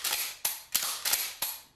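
A shotgun fires five times in quick succession, each sharp report followed by a short decaying tail, with no voices.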